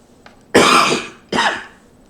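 Two sharp, loud coughs close to the microphone, the first longer and the second shorter, with a faint throat sound just before.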